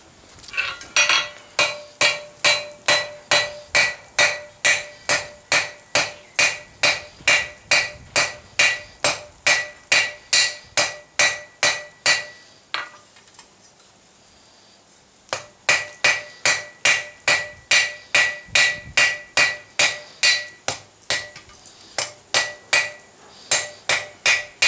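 A hammer strikes hot metal on an anvil, tapering the pin for a penannular brooch: dozens of sharp, ringing, evenly spaced blows close by, with a brief pause midway before the rhythmic hammering resumes.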